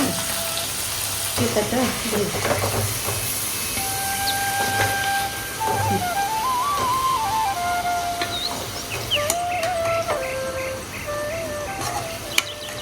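Paneer cubes fry in a pan turning golden brown, a continuous close sizzle and crackle of hot oil running steadily with faint tonal sounds in the background.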